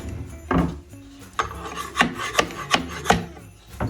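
A scraper works at pieces attached to a thrifted wooden item, producing a series of sharp scraping and knocking strokes in an irregular rhythm, close and fairly loud.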